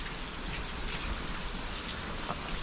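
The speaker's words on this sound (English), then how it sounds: "lightning, thunder." Steady rain falls throughout, a dense hiss of drops on surfaces with no distinct thunderclap standing out.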